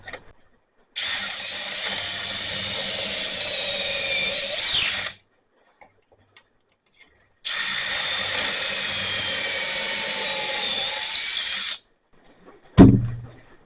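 A power drill bores pocket holes through a clamped Armor Tools pocket hole jig in two loud, sustained high-pitched runs of about four seconds each, separated by a pause and ending with a sharp clunk.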